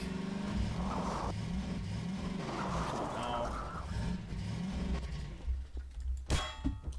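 A car engine in Garry's Mod revving and droning in rising and falling waves, followed by a sharp metallic clang and clattering impacts near the end, with a voice talking over it.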